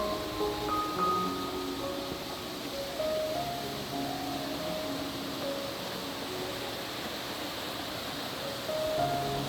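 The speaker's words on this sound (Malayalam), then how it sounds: "വലിയ പാറക്കെട്ടുകൾക്കിടയിലൂടെ കുതിച്ചൊഴുകുന്ന പുഴ അതിൻ്റെ നിലയ്ക്കാത്ത ശബ്ദം" Steady, broadband rush of a river tumbling between large rocks near a waterfall, a constant roar without pauses, with no voices.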